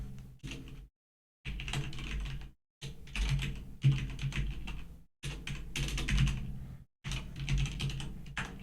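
Bursts of close, rapid clattering keystrokes on a computer keyboard, stopping and restarting in several runs with brief silent gaps between them, no talking.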